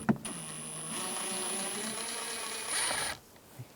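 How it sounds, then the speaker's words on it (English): A T20 socket loosens the sun visor screw in a 2013–2016 Dodge Dart, giving a close, steady mechanical whir with a high whine that holds for about three seconds, then stops. "Using a T20 socket,"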